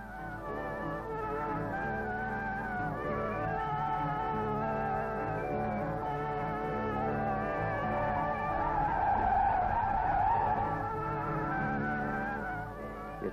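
A 1960s double-decker bus slides on a wet skid patch during severe handling tests, producing a sustained, loud tire squeal and engine drone that holds steady for over ten seconds and swells slightly near the end.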